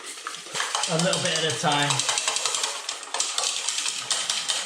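Eggs and self-raising flour for pancakes are whisked in a bowl, giving quick, regular scraping taps that hold steady throughout. A voice speaks briefly early on over the whisking.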